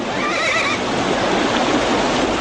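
Frightened horses whinny and neigh amid a dense, steady wash of broadband noise like rushing water, with no voices clearly heard.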